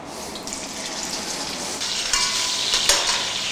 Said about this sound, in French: Je vais faire revenir mon smoot, c'est-à-dire mon saindoux. Regardez ça, des beaux petits lardons.